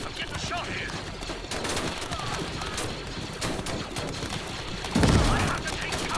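Blaster fire from droids in the Star Wars: Galaxy at War game, a dense, continuous barrage of overlapping shots with louder bursts near the end, played under occasional speech.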